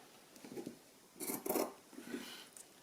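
Scissors trim excess fabric for a fabric rag book, making a few quiet, close snipping and rasping cuts in short bursts, with no talk.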